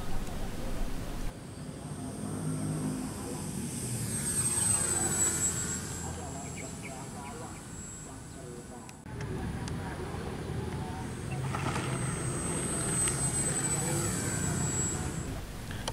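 A small radio-controlled T-6A Texan II model airplane's high-pitched motor whines as it passes overhead twice, rising and fading, with wind noise and low rumble beneath.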